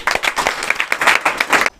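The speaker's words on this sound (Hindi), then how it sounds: "जोरदार तालियां दीजिए" Brief burst of dense applause from a crowd at a motivational speech, loud and close, cutting off abruptly.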